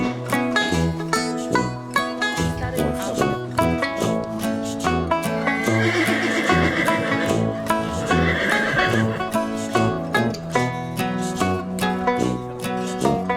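Horses at an annual herding drive to the Regietów stud farm whinny several times over a dense, rhythmic background of other sound.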